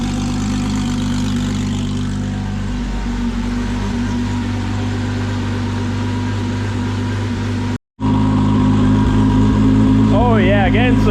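A Camaro's engine idles while warming up, a steady, deep, rumbling drone held close and loud throughout, with a brief cut partway and what may be a voice over it.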